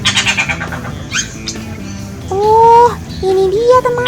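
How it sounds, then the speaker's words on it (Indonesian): A bee-eater's call, loud whistled and squawking notes in short repeated phrases, with a voice speaking briefly near the start and music faintly beneath. "suara cirik-cirik kumbang. Kicauannya sangat lantang dan sangar."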